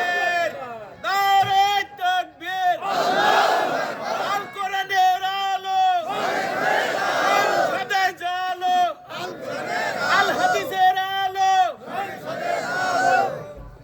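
A large crowd at an Islamic religious gathering in Satkhira answers a takbir call with loud, repeated chants, each surge of voices rising and falling in rhythm between a leader's calls.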